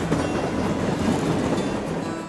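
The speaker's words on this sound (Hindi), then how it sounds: "तभी दोनों ओर से रेलगाड़ियां गुजरी।" Trains rumble past on railway tracks crossing a desert in an animated story, a steady continuous rolling clatter with no voices.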